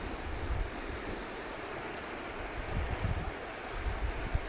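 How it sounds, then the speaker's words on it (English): Ocean waves wash onto a beach under a strong, gusting wind, a dense, continuous wash of surf and low rumbling wind noise, moderately loud, with no voices. "this first one here is from the beach"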